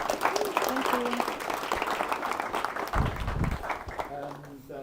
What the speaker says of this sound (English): please give her a last round of applause